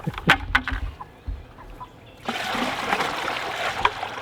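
Water splashes and gurgles briefly, then pours in a steady rushing stream from one bucket into another, close by and fairly loud.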